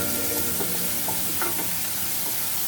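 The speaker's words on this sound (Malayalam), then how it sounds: "നന്നായിട്ട് ഒന്ന് മിക്സ് ചെയ്യാം." Beef pepper fry being stirred in a pan over a low flame, with a steady soft sizzle and scraping stir strokes running under it, close and continuous, with no talking.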